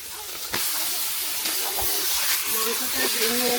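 Beef hits hot, oil-fried spice paste for a night-time beef bhuna and sizzles loudly in a steady, hissing crackle, with someone speaking over it.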